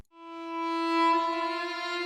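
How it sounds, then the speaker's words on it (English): A long sustained string phrase sample from Splice, used in a dark trap melody: a single bowed note with rich even harmonics swells in quickly and holds steady and full for about two seconds, alone with no talk. "And then the last sound I added was a phrase from Splice. It was a long string phrase. So the original sounds like this."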